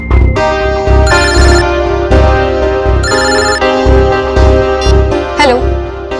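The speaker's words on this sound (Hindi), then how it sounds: "मैं अभी नम्रता को फोन करता हूँ।" A phone rings with a loud, close, repeating musical ringtone that plays continuously without pause.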